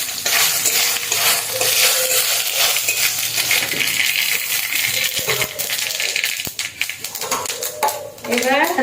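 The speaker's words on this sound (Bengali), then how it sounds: "ভালো করে নাড়াচাড়া করে নিতে হবে।" A spoon stirs spiced raw mango jelly pickle in a pan with a little oil, scraping and sizzling continuously. The sound is loud and close, with dense metallic rattles and scrapes throughout.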